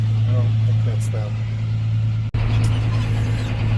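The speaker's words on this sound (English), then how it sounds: "There's a car coming now." Car approaching along a rural road near farm barns and grain bins, a steady mid-distance engine and tire hum running throughout beneath occasional talk, with a brief dropout partway.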